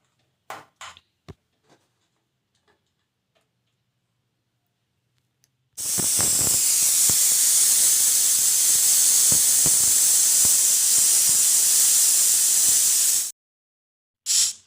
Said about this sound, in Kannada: ಕುಕ್ಕರ್ ಲಿಡ್ನ ಕ್ಲೋಸ್ ಮಾಡಿ ಒಂದು ವಿಸಿಲನ್ನ ಹಾಕ್ಸ್ಕೊಳ್ಳಿ